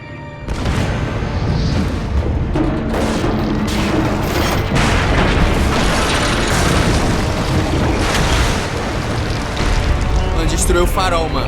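Heavy booming explosions from bombs going off in Assassin's Creed Revelations, rumbling over sea and ships near a lighthouse, one loud continuous barrage of blasts and crackling debris that fills nearly the whole stretch with little let-up.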